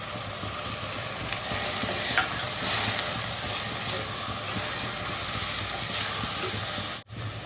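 Tomatoes frying in a pan with onions and green chillies, a steady moderate sizzle with faint stirring sounds running evenly, briefly cutting out near the end.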